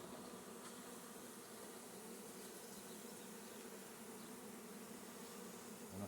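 Honey bees buzz around a hive in a dense, continuous drone that stays even and fairly faint throughout, with no voices.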